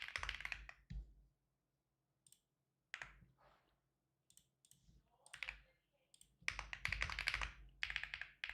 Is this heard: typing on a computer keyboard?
yes